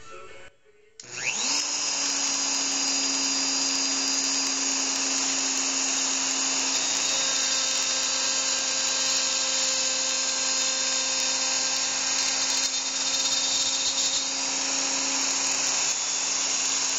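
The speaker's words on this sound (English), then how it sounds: "I'm going to route halfway through the material." A handheld router whines steadily at high speed while cutting a chamfer halfway through the material, a loud close motor tone with cutting noise that starts abruptly and holds for the rest of the stretch.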